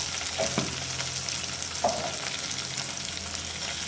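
Ridge gourd being mixed with salt and turmeric in a pan, a soft frying hiss with a couple of distinct spatula scrapes and knocks, close and moderately quiet.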